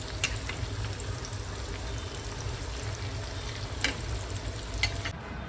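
Dal vadas (chana vadas) fry in hot oil over a low gas flame, a continuous soft sizzle and bubbling, close and fairly quiet, with occasional light taps or clinks.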